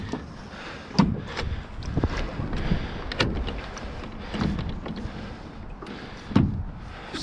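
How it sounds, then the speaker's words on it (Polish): MotorGuide Xi3 bow trolling motor being lowered into the water from a boat, a series of knocks and clunks with splashy rumble between them, fairly close. "pierwsze zanurzenie dziobówki"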